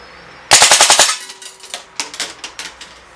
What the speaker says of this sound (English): We're going to just unload this gun at 1200 rounds per minute, because this does have the mod chip. And we're going to shoot full auto.